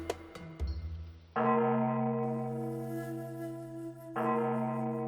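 A morning bell rings at a 1,000-year-old Wudang Taoist temple, with a few light metallic taps followed by two deep, sustained strikes that hum and resonate loudly, each tone lingering as it slowly fades.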